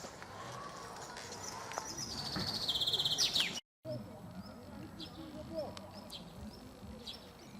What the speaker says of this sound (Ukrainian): Пташки співають, радіють весні.